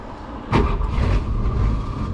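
A Mercury Comet's engine catches abruptly and settles into a loud, rough idle, the start close by and sustained to the end.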